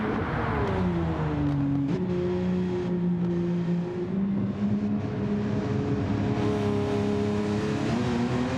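Ferrari Testarossa engine in Gran Turismo 7, lapping the Nürburgring, a steady loud drone that climbs and dips with throttle and gear changes across the whole stretch, with no voices over it.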